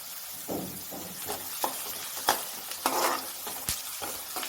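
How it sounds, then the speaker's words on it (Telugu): Onions frying with turmeric in a pan for chicken curry, a soft steady sizzle broken by several sharp scraping stirs and spoon knocks, close and moderately quiet. "ఉల్లిపాయలని బ్రౌన్ కలర్ వచ్చేదాకా వేయించాలి"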